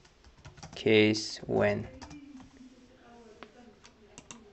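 Someone types an SQL query on a computer keyboard: a quick run of close key clicks, then sparse single taps, with a person talking loudly over the first part.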